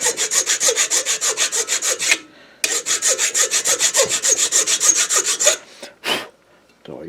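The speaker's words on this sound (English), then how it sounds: "I'm going to file the coil mount post so the coil will get its ground." Metal file working the coil mount post of a new old stock Briggs & Stratton 5 HP dual shaft engine, fast rhythmic rasping strokes in two close, steady runs separated by a brief pause, no talking.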